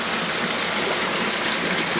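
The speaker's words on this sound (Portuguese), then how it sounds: "Tudo entrando água pra dentro de casa." Rainwater floods into a house on Rua do Vapor in Itapajé during a winter downpour, a dense, steady rushing and splashing like a gushing stream, loud and continuous with no one speaking.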